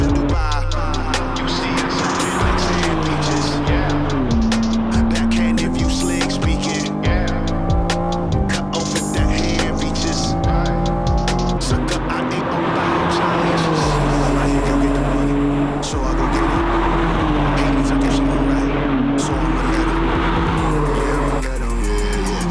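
BMW M cars, an M4 and an M2, driven hard on a race track: steady loud engine drone with rising and falling revs through gear changes and corners, continuous throughout, with some talk over it.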